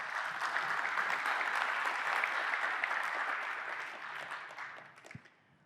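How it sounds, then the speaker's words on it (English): Audience at a corporate address to member firms breaks into sustained, even applause that fills the room and then tapers off toward the end. "So how about a round of applause?"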